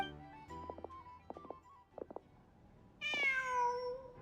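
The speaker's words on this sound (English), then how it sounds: "Just a cat." A cat meows once in the game Genshin Impact, a clear rising-then-falling cry after a few soft clicks and taps, fairly close over a quiet background.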